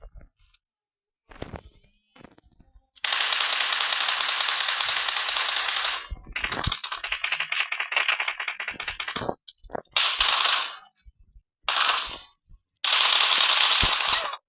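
Rapid automatic gunfire from the mobile battle-royale game PUBG Mobile rattles in several long sustained bursts, loud and close, broken by short pauses and separate sharp shots.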